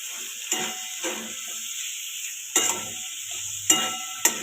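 Several separate stirring scrapes in a pan of potato sabji after coriander goes in, with a steady faint sizzle running underneath throughout.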